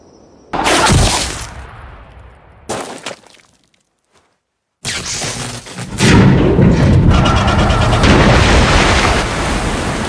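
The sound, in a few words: drilling machine explosion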